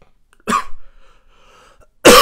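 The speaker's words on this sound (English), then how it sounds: "This cough is getting crazy." Two hard, harsh coughs, the first around half a second in, the second at the end, with near silence between them.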